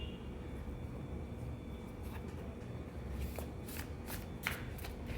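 Tarot cards being shuffled by hand, a soft continuous riffling and rustling with a few sharper card snaps near the end, over a steady background hum.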